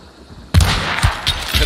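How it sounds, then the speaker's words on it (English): In the video game Hunt: Showdown, a loud gunshot cracks out suddenly, followed by a few rolling, echoing reports that fade out, with no talking. "I mean, he shot at me."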